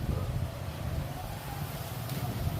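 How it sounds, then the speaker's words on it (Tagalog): Strong outdoor wind buffets the microphone in a steady low rumble, fairly loud and continuous with slight gusting, while someone holds an umbrella. "Bihira lang may hangin na malakas eh."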